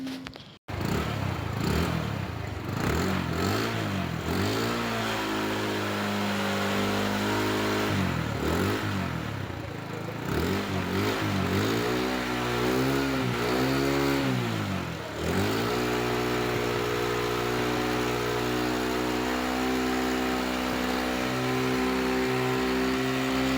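A motorcycle engine, just repaired for a white-smoke problem, starts up and runs steadily for over twenty seconds, close and loud, with repeated revs rising and falling in pitch between stretches of idle.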